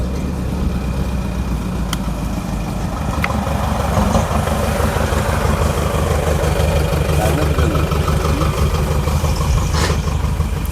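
A tractor-like engine runs steadily throughout beside water during fishing, a loud continuous low rumble with a few faint clicks and knocks over it.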